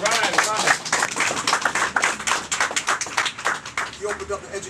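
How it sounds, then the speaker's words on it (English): An audience claps with scattered, uneven claps that rise and fall in bursts while voices talk over them. "Let's give him a round of applause"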